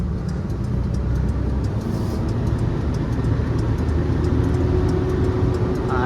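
A car is driven onto a loading truck, a steady, loud engine rumble and road noise that carries on unbroken for several seconds, with no clear talking.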